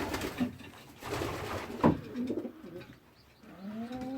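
Pigeons coo softly nearby at an allotment loft of nesting pairs, low throaty calls rising and falling, with rustling and a sharp clack partway through.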